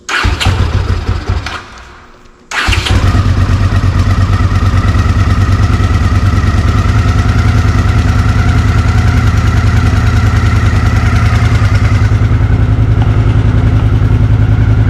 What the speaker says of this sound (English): I haven't started this bike for a week, 2 weeks. Fired right up.